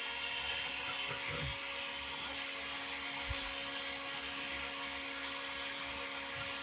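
A small RC helicopter under $100 hovers steadily and lands on a helipad, its faint continuous rotor whine droning evenly throughout with a few soft low bumps, and no talking.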